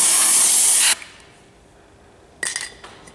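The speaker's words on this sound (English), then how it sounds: "Blow some compressed air inside the printer to remove excess dust." Compressed air blasts inside an Epson printer for about a second with a loud, close hiss, then stops; after a pause a short burst of clattering plastic and light taps follows.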